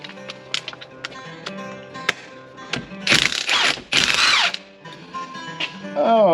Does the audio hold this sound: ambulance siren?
no